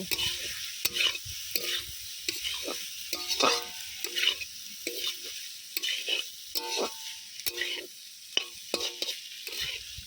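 Chopped banana flower being stirred in a pan with chili and turmeric powder, with repeated scraping strokes and a steady sizzle underneath, close and moderately loud, with no talking.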